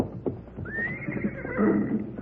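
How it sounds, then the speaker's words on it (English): A horse gives a loud, rising whinny near a burnt-out wagon, with faint hoof clops and low background sounds underneath. "And that's his horse, too."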